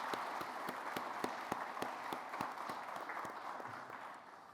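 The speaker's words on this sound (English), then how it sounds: "So let's give them all a big round of applause," Audience applause at a fire department recruit class graduation ceremony, a steady wash of clapping from a crowd with sharp individual claps standing out, fading slightly toward the end.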